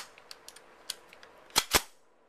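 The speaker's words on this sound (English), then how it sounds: "You hear that little click when I let off the trigger and then pull it again when it snaps?" Two sharp metallic clicks from the trigger group of an M1 Garand .30-06 rifle during a function check, close and distinct, preceded by a few faint small ticks of handling.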